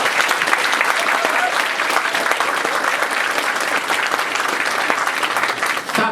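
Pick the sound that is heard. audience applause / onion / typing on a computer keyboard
audience applause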